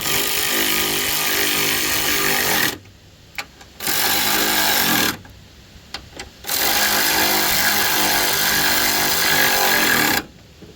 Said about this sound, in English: That's how to tighten up these bolts.